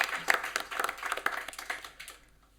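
An audience at a screening event applauds for the editor, producing a lively burst of clapping with sharp individual claps that gradually thins out and fades to near silence.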